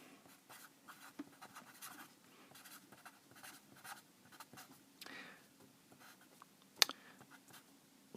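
Pen strokes scratch across paper while a circuit diagram is drawn by hand, a soft, close, irregular scribbling with short pauses and a sharp tap near the end.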